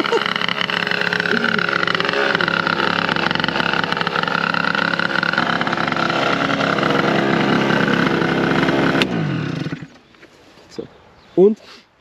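Piaggio NRG scooter fitted with a Stage6 70cc engine being ridden, its loud, steady, high-revving two-stroke drone running continuously for about nine seconds before cutting off abruptly, followed by a few faint brief noises.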